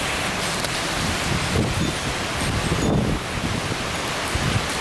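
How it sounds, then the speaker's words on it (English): Hurricane Irma's gusts near 65 to 70 mph roar steadily in a broad, rushing wash, swelling in stronger surges around the middle of the stretch and easing briefly before building again, with buffeting rumble across the microphone. "About a 65, 70 mile an hour gust every once in a while. You can hear it."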